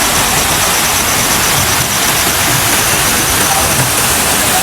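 Dhani waterfall near Muzaffarabad in Azad Kashmir roars in a loud, dense, unbroken rush of falling water heard up close, with no talking.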